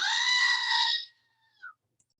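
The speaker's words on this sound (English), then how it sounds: "I have this screaming goat, which I think is really awesome." A single loud, human-like bleating scream from a goat toy, lasting about a second, followed by a short faint squeak and silence.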